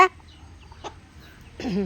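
Backyard chickens at a home where ducks are also kept, giving a few short clucks: a brief cluck at the start, a faint one near the middle, then a louder, drawn-out call at the end over quiet background.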